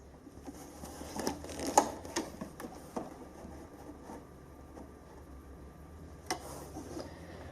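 Pfaff Ambition 630 sewing machine stitching buttonholes: soft mechanical whirring with bursts of ticking and clicking, a few sharper knocks, fairly quiet and alone.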